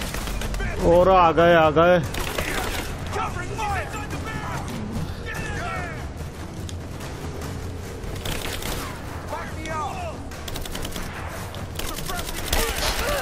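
Bursts of automatic gunfire crackle through a snowy battle in Rise of the Tomb Raider, sharp shots repeating at mid distance while someone speaks over them and a voice shouts briefly.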